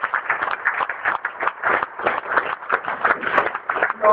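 A church congregation claps in steady rapid rhythm, offering applause to the Lord during a worship service, with the claps moderately loud and continuous throughout.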